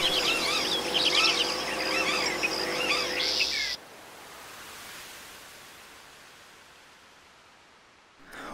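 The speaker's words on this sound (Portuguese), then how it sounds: "Nas matas, era comum ver a imagem e ouvir o canto da gralha azul." An azure jay sings in the forest with a quick run of bright, chattering, repeated calls that are loud and close for a few seconds, then stop and leave only a soft, fading hiss.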